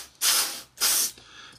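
Close aerosol paint spraying on a Trumpeter 1/32 scale AV-8B Harrier kit, heard as two sharp, loud hissing squirts in quick succession followed by a quieter trailing hiss.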